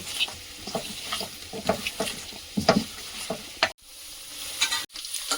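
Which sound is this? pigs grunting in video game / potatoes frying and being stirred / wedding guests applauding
potatoes frying and being stirred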